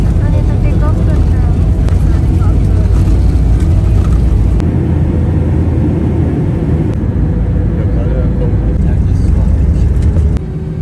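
AJet passenger jet on its takeoff roll from Istanbul bound for Cappadocia, heard from inside the cabin as a loud, steady engine roar and rumble, with people talking faintly beneath it.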